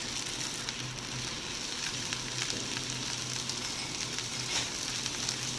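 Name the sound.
pork adobo frying in a pan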